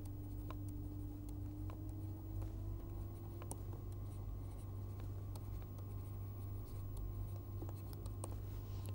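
Handwriting during a lecture, a pen or chalk scratching out a mathematical proof with quiet ticks and strokes, faint and close, over a low steady room hum.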